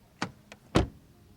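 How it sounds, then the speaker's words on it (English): Door of a 2022 Mercedes-AMG C43 W206 swinging shut, a light click followed by a solid, close thud with a short latch sound, heard alone with no talk. "Door closing sound."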